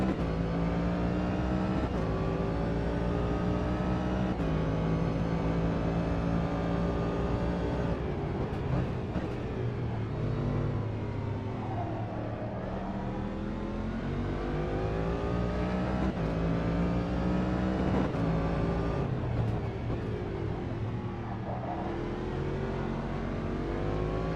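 A DPI prototype race car driven in Automobilista 2, its engine droning steadily throughout and rising and falling in pitch through shifts and corners, loud and continuous with no voices.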